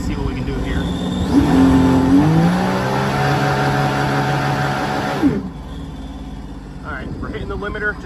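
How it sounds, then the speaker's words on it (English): A 2014 Sea-Doo GTX 215 jet ski engine revs hard on its trailer at a standstill, a loud sustained whine rising in pitch and holding near the limiter for several seconds before cutting off abruptly, leaving quieter background noise. "let's go ahead and we'll get the RPMs up."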